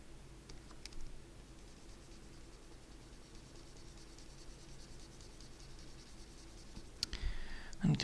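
A pen or stylus makes drawing strokes, a faint scratchy rustle under low background hiss with a few soft clicks and bumps toward the end.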